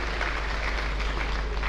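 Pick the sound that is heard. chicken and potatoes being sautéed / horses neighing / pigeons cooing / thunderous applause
thunderous applause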